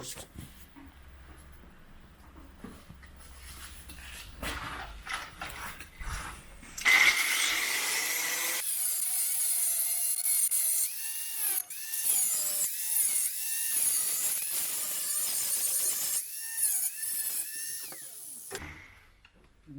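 A rotary cutting tool grinds open a burnt Honda Spacy Alpha scooter ECU, a high whining drill-like buzz in repeated bursts with pauses, after a stretch of quieter handling and mechanical clicks.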